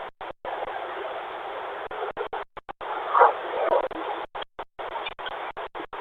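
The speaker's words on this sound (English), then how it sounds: "That's spirit box. That's a spirit box right there." A ghost-hunting spirit box sweeps through radio static, a band-limited crackling hiss chopped by frequent abrupt silent gaps, with brief warbling tonal fragments surfacing midway.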